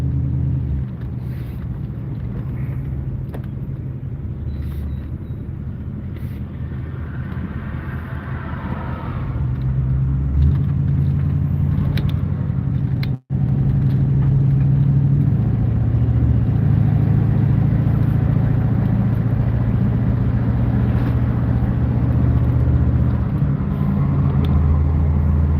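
A station wagon's engine rumbles steadily from inside the car as it drives, with a low continuous drone and some wind noise, loud and unbroken apart from a brief dropout midway.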